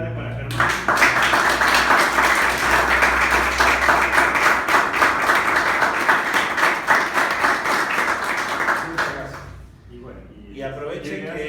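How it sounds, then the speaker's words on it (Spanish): A crowd at a talk bursts into loud, rhythmic applause that holds steady for several seconds and then fades out, followed by voices and stage noise. "un aplauso grande para Germán"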